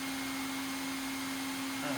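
A 3D printer running with a fan, giving a steady whirring hum with a constant tonal whine, fairly loud and close, with a slight shift in the motor sound near the end.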